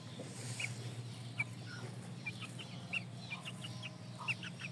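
A rooster and hens cluck in short, scattered calls at moderate distance over a steady low background hum, with no talking.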